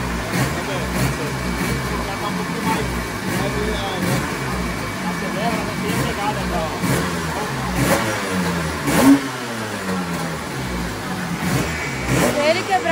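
A Yamaha RD 350 two-stroke motorcycle revs on a dynamometer, its engine note rising and falling in repeated surges at close range, with one sharper burst near the middle.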